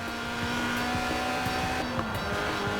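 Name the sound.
Lotus Elise 1.8-litre engine revving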